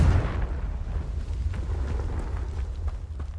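A Confringo spell explosion in Hogwarts Legacy, a deep rumbling boom that starts loud and rolls on as a low, sustained roar for a few seconds.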